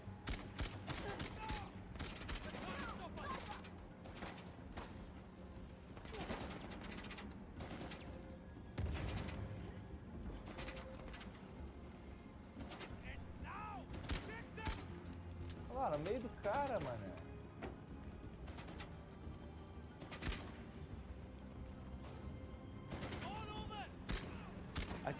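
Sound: gunshots in the video game Uncharted: The Lost Legacy

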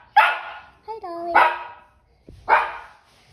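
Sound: dog barking to be let out

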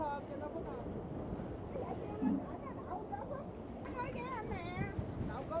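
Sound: strong wind on a barge

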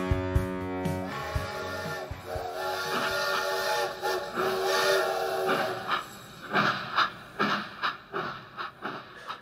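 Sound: steam train whistle sound effect

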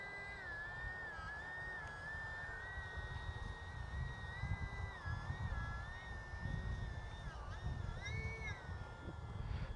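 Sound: RC bush plane motor with throttle being varied

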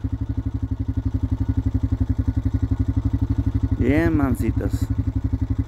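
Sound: motorcycle engine running

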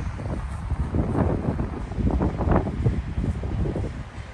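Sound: strong gusty wind outdoors

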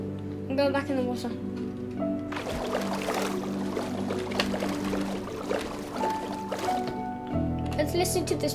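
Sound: water sounds while swimming in Minecraft video game

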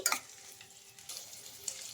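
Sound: potatoes frying with tempering in a pan

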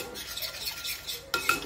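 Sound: mixing yogurt marinade in a bowl

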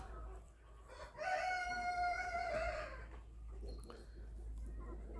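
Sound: Cochin rooster in the garden

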